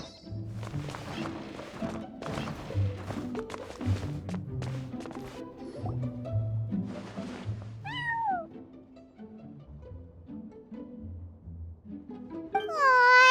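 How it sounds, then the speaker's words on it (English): A cat in Genshin Impact meows twice, once with a short rising call midway and once with a louder, stretched meow at the end. Soft game music and light tapping sounds play underneath. "that's a good kitty,"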